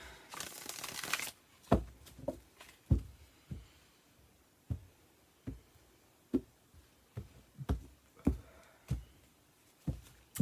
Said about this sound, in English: Done some shuffling, but let me just do a bit more.